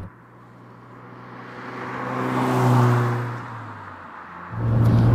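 A supercharged Toyota MR2 Mk1 drives along, its engine a steady harmonic drone that swells to a peak and eases off, then the revs jump sharply near the end, loud and close.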